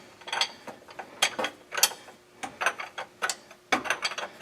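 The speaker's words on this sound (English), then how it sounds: "when you go to tighten those up, it's a 1-inch wrench" A 1-inch wrench ratchets quickly while tightening by-pass filter bolts on a 2000 Ford F-350, giving rapid close clicking bursts and short mechanical clatters with no talking.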